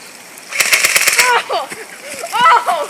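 An airsoft gun fires a rapid full-auto burst of sharp snaps at close range into a person's back, followed by pained yelps and exclamations.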